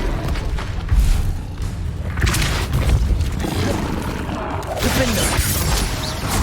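A Hogwarts Legacy spell-combat sequence with the Expelliarmus spell delivers a dense run of booming impacts and thuds. Several heavy hits swell and fade over a rumbling game soundtrack, with brief shouted voices.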